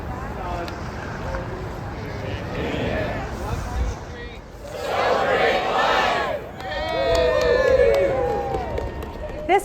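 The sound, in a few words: crowd marching at a pro-life rally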